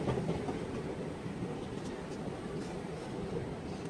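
A metro train runs through an underground Doha metro station in Qatar, a continuous loud rumble with a faint clickety-clack of wheels on track, steady for the whole stretch with no voices.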